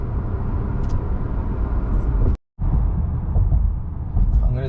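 A tuned Honda Accord 2.0T with a stage 3 tune making a hard highway pull, its steady engine and road roar loud and continuous, broken by a brief silent gap midway before the drone resumes.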